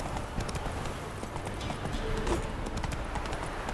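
Hoofbeats of Roach, a horse in The Witcher video game, clip-clop at a steady running pace under a continuous game soundscape, fairly close and even in level throughout.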